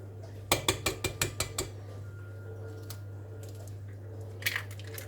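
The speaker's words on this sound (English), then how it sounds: "And then add my 2 eggs" Two eggs being cracked and added to a cake mixture in a bowl, a quick run of sharp taps and clinks early on, then quieter handling with another brief clatter near the end over a low kitchen hum.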